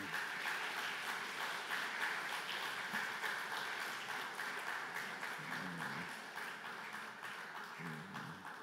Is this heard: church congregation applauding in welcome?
yes